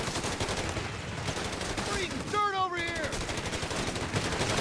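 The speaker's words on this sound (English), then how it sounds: "the machine gun cuts that off" Rapid, continuous machine gun fire in the real-time strategy game Company of Heroes 3 rattles steadily at a loud level. A brief descending tonal whine cuts across the middle of the burst.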